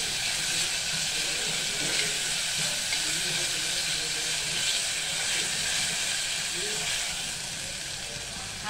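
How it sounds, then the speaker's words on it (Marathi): Masala with tomatoes sautés in a pan for a veg thali, a steady, close sizzling hiss that holds evenly throughout and eases slightly at the end, with no talking. "छानपैकी आपण आता हा मसाला सगळा परतून घेणार आहे। टोमॅटो थोडं मऊ करायचं आहे आपल्याला।"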